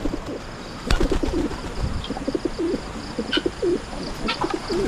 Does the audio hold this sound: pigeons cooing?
yes